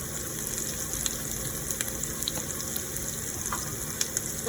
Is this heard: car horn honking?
no